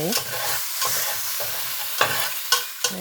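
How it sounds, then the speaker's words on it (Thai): Pounded curry paste is stir-fried in a pot with no oil for a Thai-Lao beef rib curry, with repeated scraping strokes of a spatula and a soft sizzle, several distinct scrapes in an irregular rhythm, close by and alone. "บัดนี้ก็สิเอาไปผัดตั้งหม้อแล้วก็ใส่ลงไปเลยบ่ต้องใส่น้ำมันพี่น้อง"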